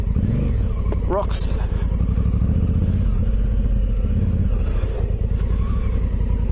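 An off-road Honda Africa Twin motorcycle engine rumbles and revs continuously up close across rough, rocky ground, with someone talking loudly over it throughout.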